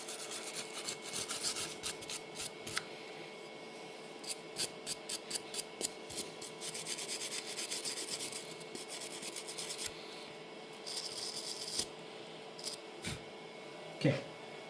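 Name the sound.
wire brush scrubbing gunk off a Deutz D19 tractor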